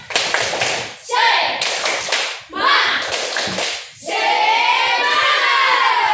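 Children perform a rhythmic 'tepuk semangat' clap in a classroom, bursts of patterned clapping mixed with their chanting voices, ending in a loud cheer.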